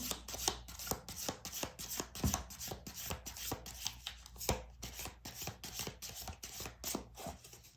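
Tarot cards are handled close up, producing a quick run of soft, evenly spaced paper flicks and slaps as cards are shuffled, drawn and flipped, with no voices.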